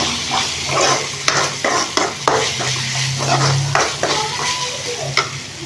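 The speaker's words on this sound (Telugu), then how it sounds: "పచ్చిమిర్చి వేసుకొని కలిపేసుకున్నాము" Ginger and green chillies sizzling in a pan while being stirred, a constant frying hiss broken by repeated scraping and clinking strokes of a spoon against the pan at close range.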